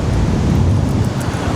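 Strong wind buffets the microphone on a beach, producing a loud, steady rumbling roar with no voices.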